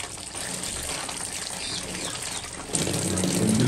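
Water runs steadily over bread being soaked to feed finches, a continuous close gushing and splashing that grows louder and fuller near the end.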